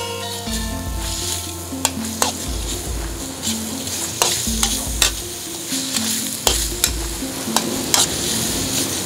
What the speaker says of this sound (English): The cabbage, the bok choy, the spring onion. Beautiful. Fry that off.